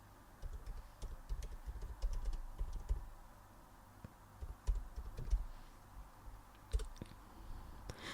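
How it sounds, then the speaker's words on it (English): Typing on a computer keyboard to enter a search term, heard as close, irregular bursts of soft key clicks with short pauses between them and no speech. "I'm going to type in here marketing proposal just as an example."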